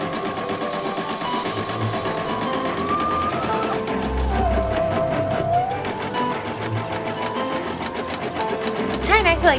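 A home embroidery machine stitches out a letter W with a rapid, continuous mechanical whirr and tapping needle, close and steady, while people talk over it.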